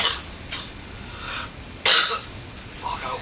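Someone with a chest complaint gives a few short, harsh coughs, one louder than the rest, over a steady hiss of background noise.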